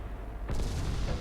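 A warship's main guns fire armour-piercing shells in the naval game Ultimate Admiral Dreadnoughts, a sudden broad boom that rolls into a sustained rumble, loud and close, with no voices.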